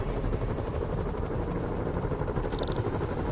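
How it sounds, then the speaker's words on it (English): Helicopter rotor drone from Marvel's Spider-Man on PS4, a steady dense thrum holding loud and even throughout, with a brief high tone flickering in near the end. "Bet I can use those helicopters to swing"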